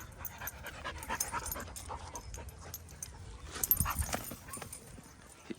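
A dog plays fetch with a ball, with close panting, scrabbling paw steps and quick movement noises in an irregular busy rhythm, loud and near.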